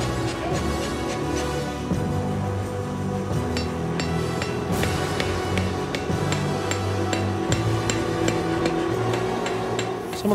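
Repeated hammer blows shape a Jambiya dagger blade on a forming die, a steady run of sharp metallic strikes ringing close and loud over a busy backdrop of music.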